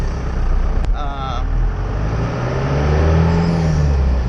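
A truck on a road trip to a junkyard rumbles steadily with loud low engine noise, rising in pitch as it accelerates toward the end, with a brief squeal or tone early on.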